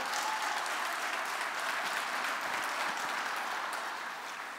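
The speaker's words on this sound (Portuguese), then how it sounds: "aplaude bem forte" A church congregation claps strongly during a sermon, a dense, loud, continuous wash of applause that holds steady and then eases slightly toward the end.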